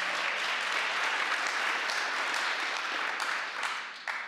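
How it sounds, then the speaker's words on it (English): A congregation claps during an elder update at a church gathering, sustained dense applause filling the room before tapering slightly near the end. "that's worth clapping for"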